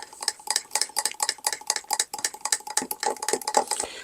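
A fork stirs eggless cake batter in a bowl for a microwave cake, making a quick, steady run of close, bright clinks and scrapes against the bowl.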